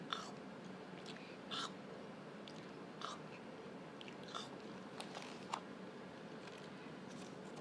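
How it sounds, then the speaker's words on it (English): A tortoise slowly chewing grass and leaves, giving soft, close, irregular crunchy bites alone against a quiet background. "And he chewed leisurely on his grass and leaves."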